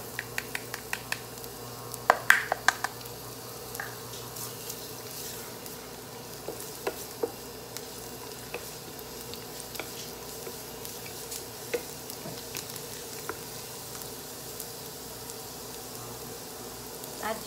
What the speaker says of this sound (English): Saute garlic.